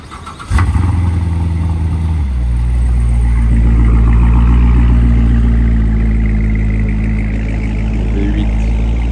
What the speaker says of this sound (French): Regardez la GT3 et regardez son échappement qui a l'air de bien sonner ici même.